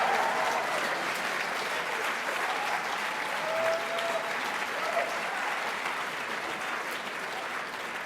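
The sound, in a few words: audience applause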